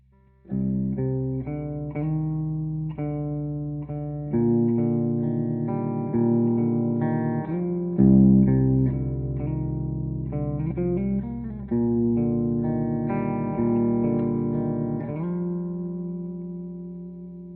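An electric guitar plays a melodic riff through a reverb plugin with a wide, washy tail, chords and single notes ringing and blending into one another.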